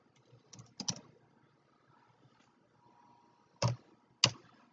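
Sparse typing on a computer keyboard in a quiet room, a few soft scattered taps, then two louder isolated key strikes near the end, with no talking.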